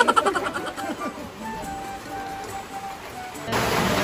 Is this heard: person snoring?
no